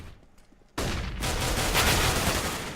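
Counter-Strike gunfire on the Cobblestone map in a pro match: after a quiet opening, a sudden burst of rapid automatic shots erupts and sustains loudly to the end.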